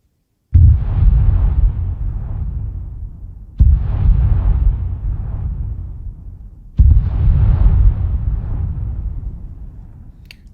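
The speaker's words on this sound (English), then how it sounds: "I will set these off one by one from their point of view, and you can kind of see how this looks like artillery coming in" Three simulated artillery shell impacts from the video game Arma 3, each a sudden loud boom followed by a long rumbling decay, spaced roughly three seconds apart, with no voices.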